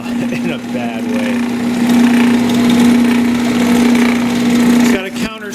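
A 1930s Delta DP-220 belt-driven drill press runs with a steady, loud motor hum and belt whir for about five seconds, then winds down and stops; no one speaks over it.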